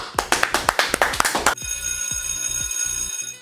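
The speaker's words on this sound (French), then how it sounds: "Mesdames, messieurs, on les applaudit." Quick, evenly spaced claps, about ten sharp hits in a row, greet a new team on a French game show, then give way to a sustained, ringing electronic bell-like tone.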